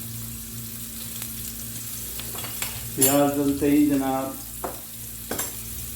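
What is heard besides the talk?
chopped onion frying in a pan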